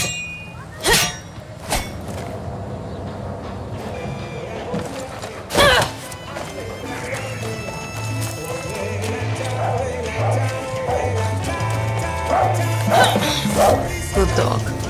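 A dog barks a few times in Far Cry 6, its sharp yaps rising over in-game chatter, clattering hooves and ambient background sound, while voices talk through much of it.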